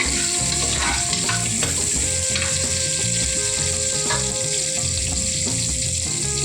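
Onions sautéing in a pan for country chicken soup and fry, a dense continuous sizzle with spatula scrapes and stirring clatter close by, no voices.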